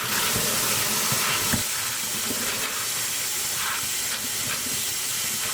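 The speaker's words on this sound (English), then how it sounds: "I'm just going to rinse them really well." Tap water runs steadily over northern beans being rinsed for canning, a loud continuous hiss with faint clatter from the beans, close by and with no voices.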